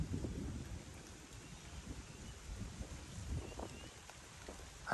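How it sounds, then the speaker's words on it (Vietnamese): Rain arrives with thunder, a faint, steady wash of falling drops and low rumbling spread evenly through the background, distant and soft with no voices. "Mưa tới luôn mà trời"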